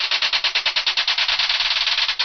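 Remote-controlled electric firecracker rapidly popping in a fast, steady string of about twenty sharp cracks, loud and close, with no talking.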